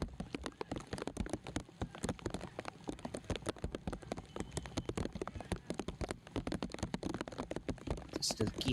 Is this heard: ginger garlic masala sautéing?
no